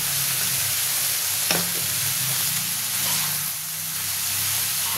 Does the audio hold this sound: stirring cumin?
yes